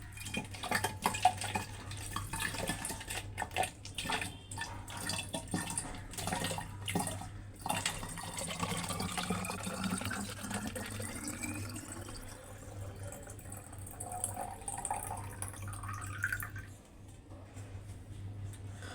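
Water poured from a basin into a drum, running and splashing with metallic clanks and knocks from the vessels over a steady low hum, tapering near the end.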